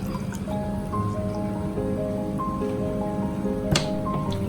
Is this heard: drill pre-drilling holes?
no